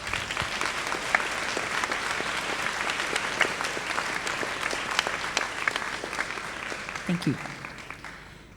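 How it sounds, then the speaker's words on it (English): Audience at a Monash Malaysia university graduation ceremony gives a sustained round of applause, dense and steady throughout, with a brief spoken thanks near the end. "show them your appreciation by a round of applause"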